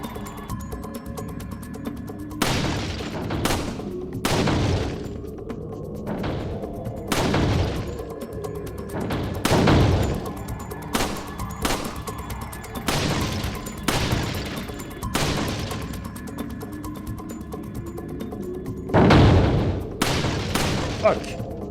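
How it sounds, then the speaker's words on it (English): Repeated gunfire bursts during the final shooting challenge in Resident Evil 4, sharp loud shots fired in irregular clusters across the stretch over a low ambient game backdrop. "they really amped it up for this last shooting challenge"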